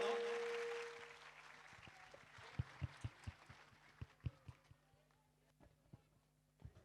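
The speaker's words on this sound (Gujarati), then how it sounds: "બાળકો માટે, ટીચર્સ માટે એકવાર જોરદાર તાળી પાડી દો" A school audience applauds for children and teachers in a dense burst of clapping that fades within about a second, followed by a few scattered sharp taps.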